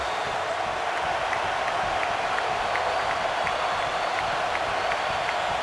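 A college football stadium crowd, the student section at San Diego State vs North Carolina in 2014, produces a dense, steady roar with faint rhythmic clapping woven through, unbroken and fairly distant throughout.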